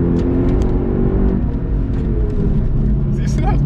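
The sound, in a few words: car driving fast on the Nordschleife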